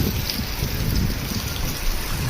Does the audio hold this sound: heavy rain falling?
yes